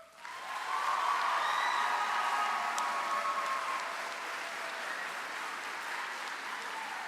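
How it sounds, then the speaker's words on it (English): Audience applause for two choir directors at a junior high school choir concert: dense, steady clapping from a full hall that swells quickly and holds for several seconds, with no talking over it. "I'd like you to give them a huge round of applause"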